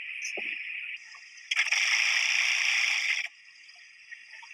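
A sewing machine stitching a small half-sleeve garment, a close, loud mechanical whir lasting under two seconds between quieter stretches of motor hum.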